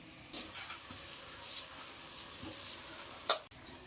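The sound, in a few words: soaked rice added to hot oil with soya chunks, sizzling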